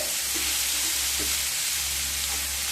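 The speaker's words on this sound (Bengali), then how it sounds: "ডালগুলোকে কিছুক্ষণ ভেজে নিলাম।" Masoor dal lentils frying in a pan over medium-high heat, giving a steady, dense sizzle with faint stirring scrapes, close and without voices.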